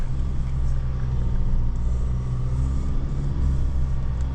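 A 2025 JAC T9 pickup's engine labours in first gear up a steep slippery climb with the rear diff locked, a steady loud low drone and rumble that holds throughout without talk.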